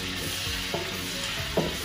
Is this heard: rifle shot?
no